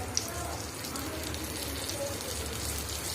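Curry leaves hit hot oil with mustard seeds and urad dal, cooking the tempering for a banana flower kootu. A steady, dense crackling sizzle runs throughout at close range.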